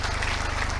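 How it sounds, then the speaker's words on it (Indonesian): An audience claps together at a motivational training session in Kediri, a dense steady patter of many hands in a brief burst. "Tepuk tangan."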